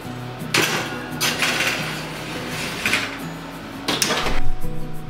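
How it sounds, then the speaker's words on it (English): Dish clattering as it goes into the oven, with several loud metallic clanks and rattles in bursts, close by. "All right, I will stick this in the oven now."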